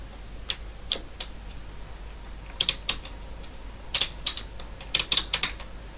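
Small metal parts of a Curta mechanical calculator being seated into position produce sparse, crisp clicks and light ticks, scattered singly and in quick clusters over a quiet background.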